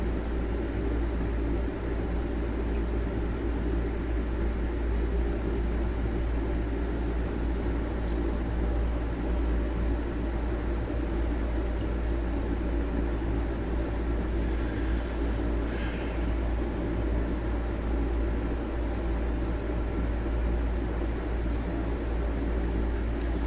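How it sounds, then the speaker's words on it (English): A vacuum cleaner runs steadily in a big room, a continuous broadband roar with a low hum that holds even for the whole stretch, moderately loud and with no talking. "She's out here vacuuming."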